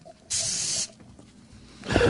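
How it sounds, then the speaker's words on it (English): A half-second burst of aerosol spray hisses loudly right at a studio microphone, followed by quieter rustling and then a second spray hiss rising at the end, with no speech. "Why are you spraying the mic down?"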